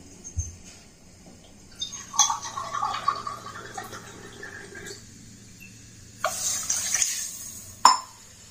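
Water is poured from a tumbler into a cooking vessel, one and a half tumblers for tea, making two short splashing pours with quiet kitchen clinks around them.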